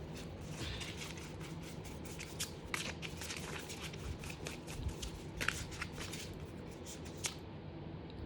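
Tarot cards shuffled by hand, a soft papery riffle and flutter of repeated rapid bursts, close and quiet, with no talking.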